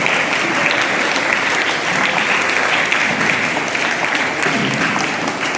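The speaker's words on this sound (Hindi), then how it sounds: "जोरदार तालियों से स्वागत किया जाएगा" Loud, steady applause from a school assembly audience welcoming the principal, sustained dense clapping throughout with no breaks.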